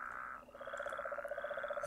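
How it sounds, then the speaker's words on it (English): Toads croaking in Minecraft Regrowth, a brief close trilling croak with rapid pulsing repetitions over a steady tonal hum, quiet and alone without speech. "And there's the toads."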